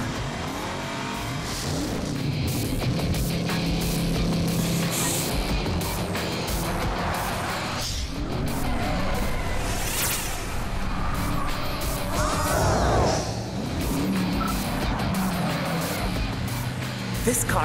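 Race car engine revving and tires squealing in a skid in an animated racing show, loud and continuous throughout with a swell near the middle, under background music, with light talk mixed in.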